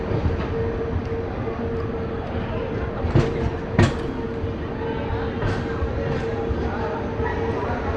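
A passenger special train pulls out of Yelahanka Junction at night, heard from on board as a steady rumbling roll with a few sharp clanks from the cars, loud and continuous throughout.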